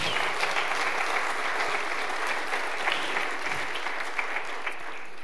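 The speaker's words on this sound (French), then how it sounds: "C'est là où il faut applaudir." A conference crowd claps during a software keynote at SymfonyLive Paris 2018, with even, sustained applause from a large audience filling the room throughout.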